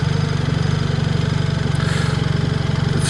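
A BMW R1300RT motorcycle engine pulses steadily with an even, throbbing beat as light throttle is applied through a tight turn, close and fairly loud with no speech.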